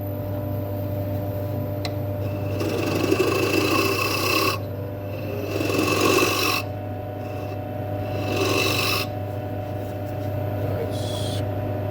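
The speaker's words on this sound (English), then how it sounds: "Scraper just for the corner on the edge to get in to make the foot." A woodturning scraper shapes the foot of a camphor laurel bowl on a lathe, producing several rasping scraping passes over a steady motor hum, moderately loud and close, with no talk.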